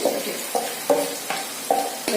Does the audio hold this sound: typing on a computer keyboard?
no